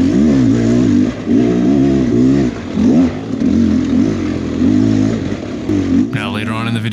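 Enduro dirt bikes, a Beta 300 RR, an Xtrainer 300 and a KTM XCW 300, climbing a riverbed, two-stroke engines revving hard in loud repeated bursts with rattling rocks, someone talking over them.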